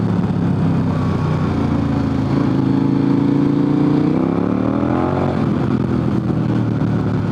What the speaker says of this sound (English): I can crack the throttle and I get a little bit of wheel spin